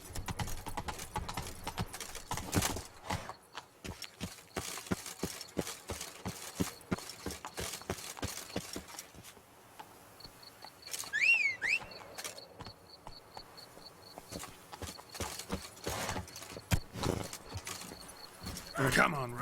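A horse gallops in The Witcher 3, its hooves clip-clopping in a steady, fast rhythm that slows and changes pace, with a brief whinny in the middle and insects chirping in the background.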